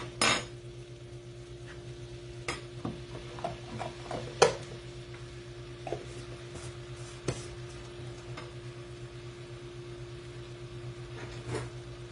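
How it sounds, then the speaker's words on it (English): Cherry filling with vegan butter stirred in a pot, scattered soft clinks and scrapes of a utensil against the pot over a steady low hum, faint and unhurried with no talking. "You want to cook and stir this for 5 to 10 minutes."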